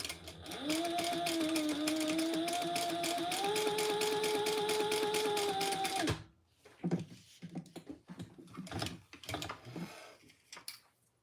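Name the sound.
sewing machine doing chain stitching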